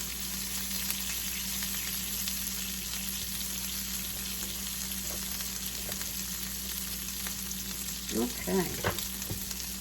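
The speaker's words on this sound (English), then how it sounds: "This is sauteing up real nice." Fairy tale eggplant and garlic sizzle in a pan with a steady hiss, and a few stirring scrapes sound near the end while someone says a brief word.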